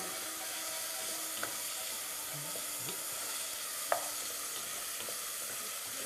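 Sugars caramelised in a pan being deglazed for a chicken dish with preserved lemon and green olives, giving a steady soft sizzle with a couple of faint clinks, no talk.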